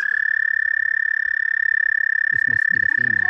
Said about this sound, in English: That's a toad. That's what these are. These are toads.